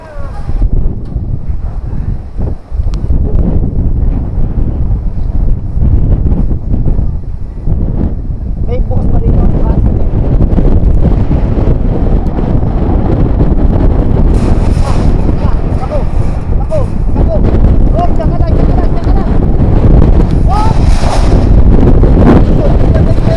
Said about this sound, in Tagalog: humahataw yung lakas ng hangin mga kabiyahe